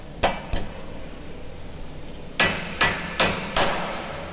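Sharp hammer taps seating a dust cap during a rear bar installation on a Nissan Y62, two blows and then a pause followed by four more evenly spaced strikes, close and crisp with no talk.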